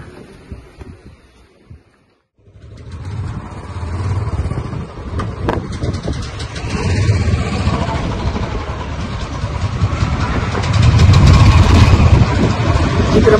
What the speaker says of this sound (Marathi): विक्रम गाडी काढतोय